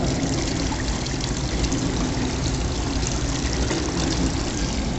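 Water from a safety eye-wash shower sprays and splashes steadily under pressure, a close, loud, unbroken hiss lasting throughout.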